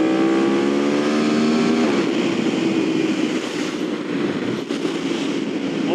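A Yamaha R1 sport bike accelerates hard and lifts into a wheelie, its engine a loud, rising whine that climbs through the gears with a steady roar and wind rush.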